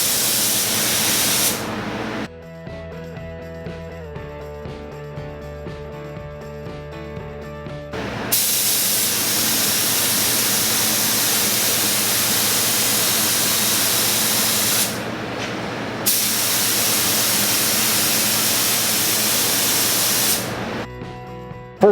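A paint spray gun lays a coat on a Subaru WRX STI front bumper in long, loud, steady hissing bursts, separated by short pauses where the trigger releases and a faint mechanical hum remains.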